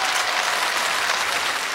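A studio audience at a televised amateur singing contest in Busan applauds, a dense, loud, steady burst of clapping with no speech over it.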